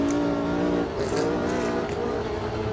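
A 1969 race car in Automobilista 2 drones with a steady high engine note, holding revs with slight dips as the power is fed back in, loud and close throughout.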